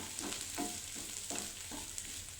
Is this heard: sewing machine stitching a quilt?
no